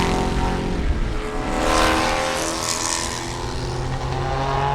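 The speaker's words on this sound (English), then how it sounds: "And there's the first year Spec Corvette." Spec Corvette race cars, a close-running group of first-year cars at Sebring, roar past in a continuous loud engine drone that swells and fades slightly, with no talk over it.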